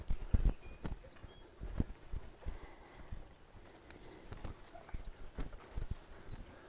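A horse pulls a cart during a first driving lesson, its hooves clip-clopping in an irregular walking rhythm, close by and moderately loud, with no talking.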